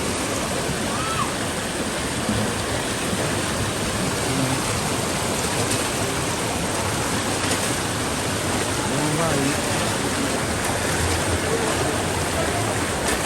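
Water rushes steadily through an urban canal in a crowded flood-hit area where people have nowhere to stay, a dense, continuous broadband wash that is loud and close throughout, with no pauses.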